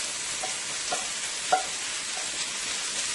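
Scallions tossed and stirred in a hot frying pan for a Guyanese eggplant and shrimp stew, a steady sizzling hiss with a few soft utensil clinks and scrapes, close and moderately loud, with no talking.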